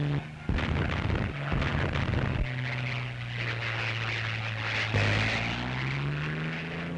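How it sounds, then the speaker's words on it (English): A Tank Buster gun firing in a wartime newsreel, heavy booming blasts at the start, then a loud sustained engine-like drone with a second thump midway, no talking. "you'll see for the first time this deadly gun in action, truly living up to its name"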